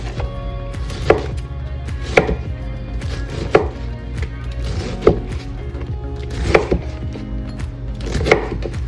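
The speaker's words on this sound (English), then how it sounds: "now it's time to shred some cabbage" A knife shreds cabbage on a cutting board for vegan mushroom tacos, sounding as sharp, evenly spaced chops roughly once a second, close and clear over a low steady background hum.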